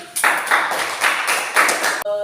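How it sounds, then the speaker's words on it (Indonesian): A few people clap in a short, patterned burst of four grouped beats for a student during a classroom mentoring lesson, close and fairly loud, ending abruptly. "Beri tepuk tangan untuk"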